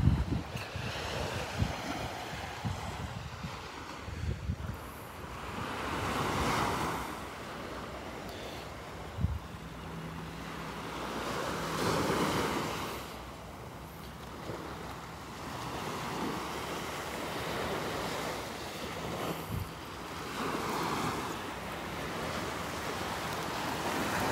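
Ocean waves wash in repeated slow surges on a Gulf beach at Delnor-Wiggins on a morning walk, with gusty wind buffeting the microphone and no talk.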